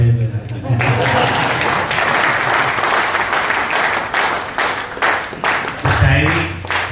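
An audience at a poetry recital applauds in a dense, loud wash of clapping that goes on throughout, with a voice breaking through at moments.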